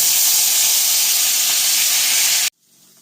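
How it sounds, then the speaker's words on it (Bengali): Ginger, garlic, onion and green chili paste frying in oil left over from frying eggs, a loud, dense, continuous hiss that cuts off abruptly, leaving quiet room sound. "ডিম ভাজা তেলেই আদা, রসুন, পেঁয়াজ, কাঁচা লঙ্কার পেস্টটা আমি ভেজে নেব।"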